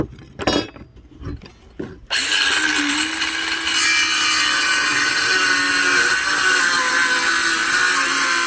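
A power tool skims a wooden board for a cheap homemade birdhouse, starting abruptly after a few light knocks and clinks and then running as a loud, steady high-pitched whine with a grinding edge.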